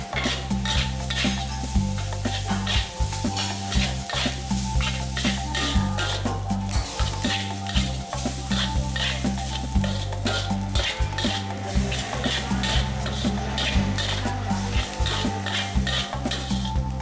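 Onion stir-frying for Kauw Pad fried rice, a steady sizzle running throughout with a utensil scraping and clinking against the pan in a regular rhythm, close and fairly loud, with no voices.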